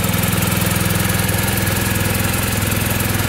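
A BMW R1250 GS Adventure motorcycle engine idles close by, giving a loud, steady, evenly pulsing throb with a fast regular beat and no voices over it.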